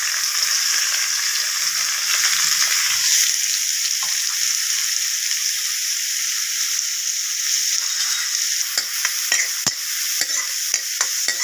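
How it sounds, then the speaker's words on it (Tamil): Small cucumber pieces sauté in a pan with continuous sizzling, with scattered scraping and stirring clicks toward the end. "ஒரு ரெண்டு நிமிஷம் வதக்கிட்டு கொஞ்சமாக காட்டமாக தண்ணி ஊற்றி வெள்ளரிக்காய் வேற வைக்கணும்"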